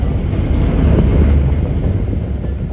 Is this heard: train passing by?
yes